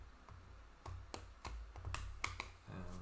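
Soccer trading cards being shuffled by hand, giving a quick run of close, crisp papery taps and flicks in an uneven rhythm with no talking.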